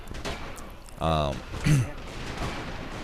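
Two loud, short bursts of gunfire from a kill-streak gun in Resistance 3 team deathmatch on the Trainyard map, heard over someone talking.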